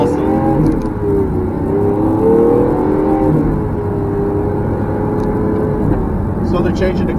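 Lamborghini Aventador SV engine and exhaust heard close up: a loud, steady mechanical drone with a rising rev around the middle, running under ongoing conversation.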